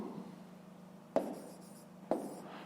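Handwriting fractions during a fifth-grade maths lesson: a quiet, close pen or pencil scratching on paper, with two sharp taps as the writing tool strikes the page, over faint room hum.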